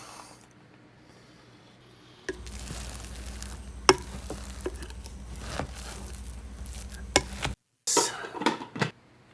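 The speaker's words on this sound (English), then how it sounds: "We're gonna add in our pasta." Pasta being added to garlic parmesan chicken in a slow cooker: a run of close rustling, soft patter and scattered ticks and clinks as the dry pasta goes in, with a brief pause before a few final louder rattles.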